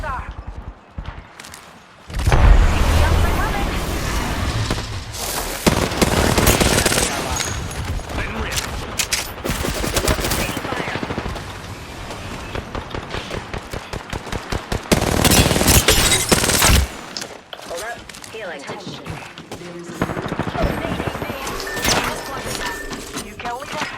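Enemy gunfire crackles in an Apex Legends match, with rapid automatic bursts and repeated shots coming in loud clusters between quieter gaps, mixed with game effects and voices talking over the action.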